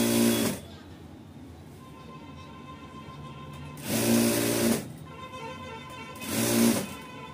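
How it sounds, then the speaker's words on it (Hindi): A sewing machine stitches a quarter-inch straight seam on a katori blouse in short bursts: three distinct runs of steady mechanical whirring separated by quieter pauses with a low hum, close and fairly loud. "यहाँ पे हम दूसरी सिलाई लगा रहे हैं।"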